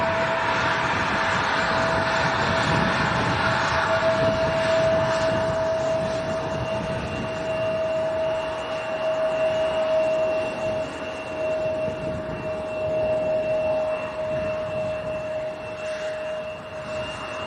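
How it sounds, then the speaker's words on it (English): An Eastern Airways Embraer 170 jet at Leeds Bradford Airport, a broad steady engine roar with a sustained whining tone, heard loud and continuous with no talk. "Eastern Embraer 170."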